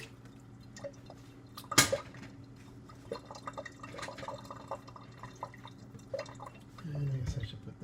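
Water splashes and drips while a cooking pot is rinsed out in a home kitchen, a faint steady wash with one sharp metallic clank early on and a louder splashing burst near the end.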